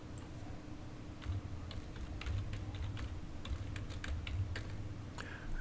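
Keys clatter on a computer keyboard in quick, uneven bursts of taps, close and fairly quiet over a steady low electrical hum, with no one talking.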